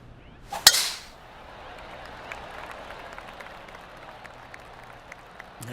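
A golf club strikes the ball on a tee shot at the 17th hole of a championship round: one sharp, crisp crack, followed at once by steady crowd applause and murmuring.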